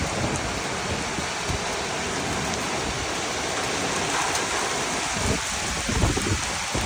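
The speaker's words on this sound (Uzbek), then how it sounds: "Yomg'ir qarang" Heavy rain pours steadily, a dense close hiss of drops on surfaces with low rumbling underneath, continuous throughout with no voices.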